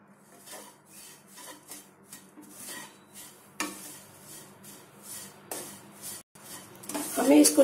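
Grated coconut is stirred continuously while it dry-roasts on low heat in a pan, making rhythmic scraping and rasping strokes against the metal that grow louder and busier toward the end.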